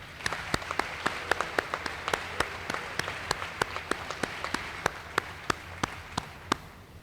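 An audience applauds at an aquatic center dedication ceremony for a swim and dive team, a quiet, sparse patter of individual claps that thins out over several seconds.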